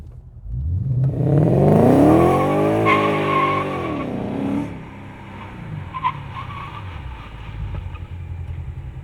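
A powerful 2010-2014 Ford Mustang GT engine revs hard and climbs through the gears during a 0-60 run, tires squealing briefly, then the roar settles into a lower steady rumble.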